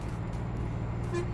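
A Setra 417 bus in Euro Truck Simulator 2 sounds its horn, a brief toot over a low, steady engine drone.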